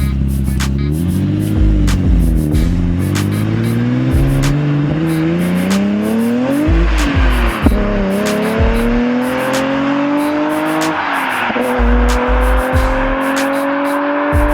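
A BMW E9 CSL restomod with a few known issues revs and accelerates hard, its engine note rising and falling through repeated climbs, loud and close with no talking.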